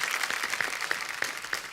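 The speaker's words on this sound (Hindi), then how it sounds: "वागले की दुनिया की पूरी स्टार कास्ट के लिए जोरदार तालियां" A studio audience on an Indian comedy talk show gives a short burst of lively applause, with dense, steady clapping throughout.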